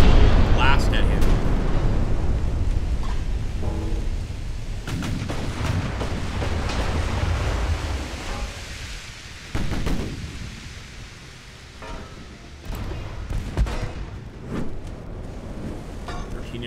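Naval guns fire a full broadside in Ultimate Admiral: Dreadnoughts, a heavy rumbling barrage of booms and explosions rolling continuously over the whole stretch, with someone talking over parts of it.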